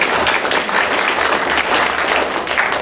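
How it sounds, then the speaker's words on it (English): Loud, continuous applause from an audience at a panel discussion fills the space, the clapping dense and steady from start to finish. "And a big round of applause for you for being here."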